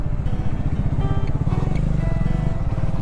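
A motorcycle threads through a dense traffic jam near road construction, its engine putting out a rapid throbbing idle that stays close and steady over surrounding traffic noise.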